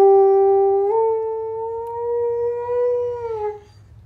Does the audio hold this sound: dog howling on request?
yes